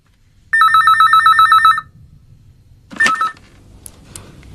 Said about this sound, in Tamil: பெல் அடிக்குது பாரு